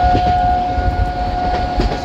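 Hoshiarpur Agra Express 14012 pulling away from a station, hauled by a WAP-7 electric locomotive: a steady loud mechanical drone with a sustained whine and a rumbling low end, with faint rhythmic clatter under it.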